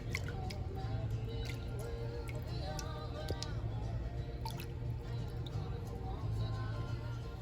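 Baseball cap pushed under liquid dye and weighed down with a meat tenderizer, producing soft close squishing and dripping water over a constant low background hum.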